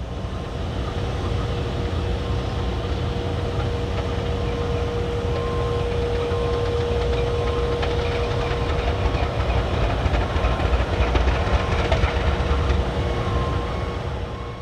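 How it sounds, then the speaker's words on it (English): Two GE U18B diesel-electric locomotives on the Pickens Railway at the Anderson shop, idling in a steady unbroken engine rumble with a faint tonal whine and no voices. "We were there when they fired up two of the U18Bs, which would be used on the railroad's Belton job."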